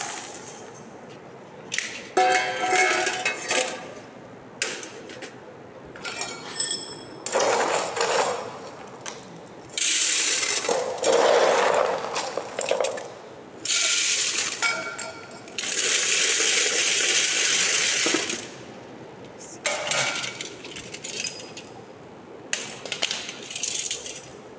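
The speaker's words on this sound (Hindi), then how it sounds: "दोबारा इसमें थोड़ा सा एग्रीगेट डालते हैं" Aggregate stones poured into a metal cylinder for an aggregate impact test make repeated loud rattling, crunching cascades in bursts of a few seconds each, separated by short pauses.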